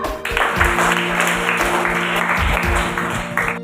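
Students in a classroom clap together in steady, dense applause that stays loud from start to finish, with a few voices faintly mixed in.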